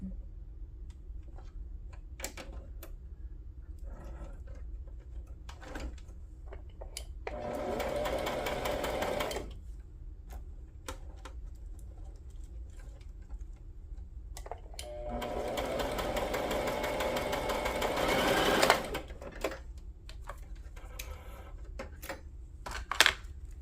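A sewing machine stitches tea bags for a junk journal in two sustained whirring bursts, separated by quiet ticking and small handling clicks.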